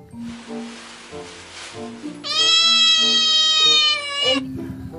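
A cat lets out a long, loud, drawn-out meow, clear and close, with scattered background noise and faint voices before and after.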